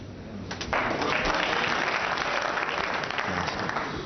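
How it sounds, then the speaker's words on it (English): A snooker crowd bursts into sustained applause, a dense wash of clapping and buzzing that starts suddenly and holds steady at full strength. "Crowd are buzzing now."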